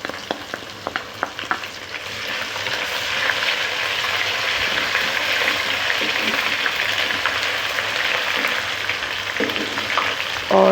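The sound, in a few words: frying onions with ginger garlic paste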